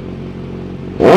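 A first-owner 2021 Kawasaki Z900 BS6 inline-four motorcycle idles loud and close before a sharp, brief throttle blip pushes the engine into a rising rev.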